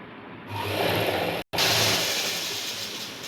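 A sewing machine running steadily while stitching fabric for straight trousers, a continuous close mechanical whirr that pauses for an instant midway and then resumes, with no talking.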